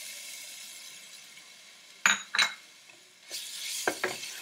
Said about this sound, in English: as soon as it starts frying, I'm gonna throw in my garlic.